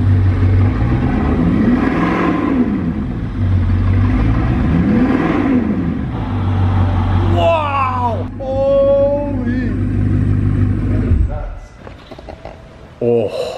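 A Bugatti Chiron's engine revving loudly nearby in repeated swelling blips, then higher, sharper climbs with a whining overtone before cutting off; a person talks over parts of it.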